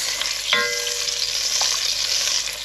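A knob of butter sizzling in a pan for French onion soup, a steady close frying hiss with a small clink of metal near the start, no voices.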